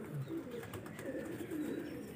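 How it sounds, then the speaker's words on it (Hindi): An old Junsra-breed pet pigeon coos softly and low, a few rolling, burbling calls repeating close by over a quiet background. "शौकत साहब के पास एक कबूतर है पुराना जुनसरा,"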